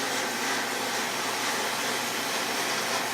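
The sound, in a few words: welding trellis pieces on a welding table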